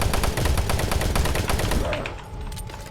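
Submachine gun firing in DOOM 3 Lost Missions, a rapid burst of loud repeated shots in fast even rhythm that stops abruptly, followed by a brief fading tail and low ambient hum.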